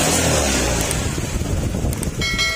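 A Honda Click 125 scooter engine revs hard at full throttle, a loud, continuous mechanical roar with a strained high whine on top, close to the listener.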